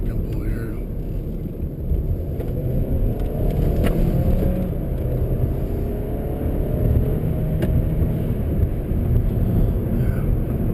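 A 2020 VW Golf wagon TSI 4motion drives at steady speed with a continuous, fairly loud low engine and road rumble as it downshifts, wind noise over the cabin, no speech.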